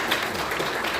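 Applause from the audience at a Democratic Party citizens' lecture on the Daejeon-Chungnam integrated special city, a brief, dense, steady wash of clapping filling the hall.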